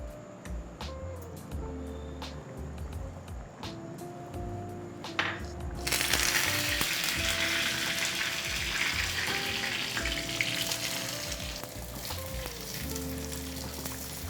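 Fennel seeds, onion and curry leaves tempering in sesame oil, a steady close sizzle that surges louder halfway through as more goes into the hot pan, with faint crackles and background hum throughout.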